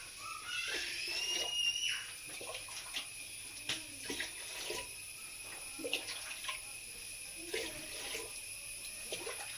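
Water running into a vessel in a home kitchen, a faint, steady pouring hiss with small splashes and shifts in pitch, with a person speaking quietly at times.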